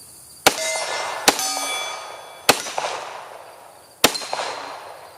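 Four sharp pistol shots from an FN 545 Tactical .45ACP, each followed by a ringing metallic clang of steel targets and bowling pins, spaced about a second apart with lingering decay.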